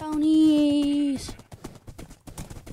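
A long sustained tone gives way to quick, irregular clip-clopping of hooves, fairly close and steady for a couple of seconds.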